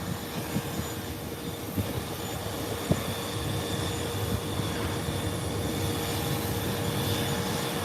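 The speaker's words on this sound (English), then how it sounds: "And JetBlue is now on the runway." A JetBlue airliner on the runway at Howard Hamilton International Airport gives off a steady, distant broadband roar that stays even throughout, with a few faint knocks and clicks over it.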